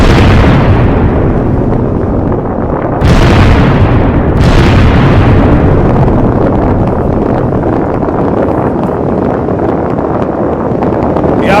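Loud explosions from an Israeli attack on Hezbollah fighters: two sharp, heavy blasts a second or so apart, each followed by a long rumbling, wind-buffeted roar that persists to the end.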